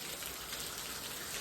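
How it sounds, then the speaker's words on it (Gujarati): Heavy rain pours down steadily in a village, a dense, even hiss of drops hitting surfaces with no gaps, moderately loud and close, and no voices. "તો મિત્રો વરસાદ આવી ગયો છે જોરદાર નો"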